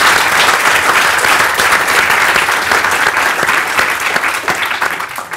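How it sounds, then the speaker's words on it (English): Loud, sustained applause from a live audience for Kevin Sinfield at a Q&A event, with thick, continuous clapping throughout that tapers slightly at the very end. "Ladies and gentlemen, I'm sure you would join me in applauding Kevin on what's been an incredible year."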